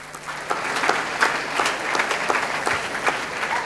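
Festival crowd applauds during the proclamation for the San Rafael fiestas, a steady wash of many hands clapping at moderate distance with a few sharper individual claps standing out.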